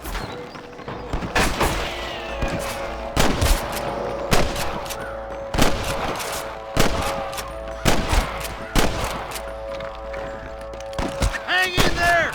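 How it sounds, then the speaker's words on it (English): A Red Dead Redemption shootout: sharp, loud gunshots crack out in a rapid, irregular run, some close together and some spaced apart, over a steady musical score. "I can hear more gunshots."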